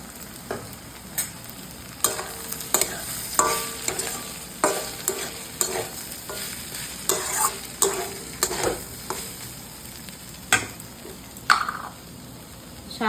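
Poha (flattened rice) being stirred and fried in a pan with chilli, carrot and tomato: a steady sizzle broken by a dozen or so sharp spatula scrapes and clacks at an uneven rhythm, close and clear with no talking.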